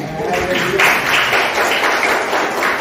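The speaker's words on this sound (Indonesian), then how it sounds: "Tepuk tangan buat Tuhan kita." A church congregation breaks into applause, dense continuous clapping close and fairly loud across the whole moment with a light murmur of voices beneath.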